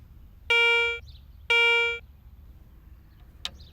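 A Garrett Ace metal detector sounding its coin tone, two sustained bright harmonic tones about half a second each, clear and alone, followed by a faint short click.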